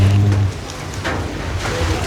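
Heavy rain falling steadily, a dense continuous hiss close by, with a brief low hum at the start.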